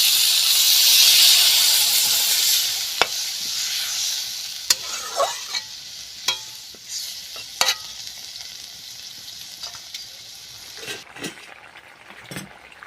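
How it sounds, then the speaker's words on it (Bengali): Water poured into a hot pan of spice-coated potatoes sets off a loud, broad hiss and sizzle that gradually fades, followed by scattered clinks and scrapes of a utensil against the pan. "এবারে আমি জল ঢেলে দেব"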